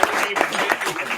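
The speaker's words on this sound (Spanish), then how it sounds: "Oye, un aplauso, por favor." An audience of a few dozen at a Spanish MuleSoft tech talk gives a short round of applause, uneven scattered clapping with voices mixed in.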